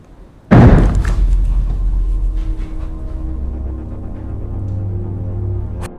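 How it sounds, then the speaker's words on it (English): A door slams shut with a single loud bang near the start, followed by a lingering low hum and resonance that slowly fades. "Is that door just closed again?"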